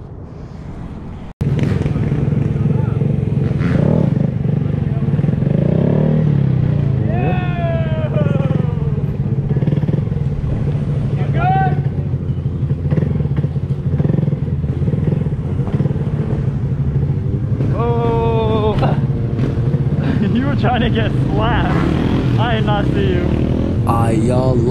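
A stunt motorcycle's engine revs and holds steady during a wheelie at a stunt lot, its pitch climbing and falling in repeated surges, loud and close, with wind noise and people talking over it.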